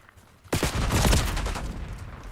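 Rapid gunfire from a Call of Duty Black Ops 6 multiplayer match on Xbox Series X bursts in suddenly after a quiet moment, a dense sustained volley of shots and booming reports continuing loudly to the end.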